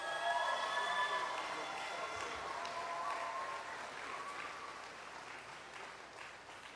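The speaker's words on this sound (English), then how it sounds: "let us give them a big round of applause" Graduates at a University of Guyana convocation ceremony receive a round of applause, a soft, fairly distant wash of clapping that gradually fades, with faint tonal sound drifting over it.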